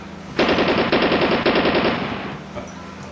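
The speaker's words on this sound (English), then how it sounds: "Maybe I'll fire a couple rounds at the camera." An M16 rifle fires a rapid burst of rounds, loud and close, in three quick clusters before the sound fades into room noise.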